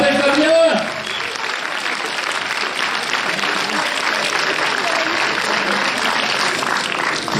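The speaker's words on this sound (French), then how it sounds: "Allez, on l'applaudit s'il vous plaît." A theatre audience at a French film premiere applauds the director, dense steady clapping filling the room for several seconds after a brief spoken announcement at the start.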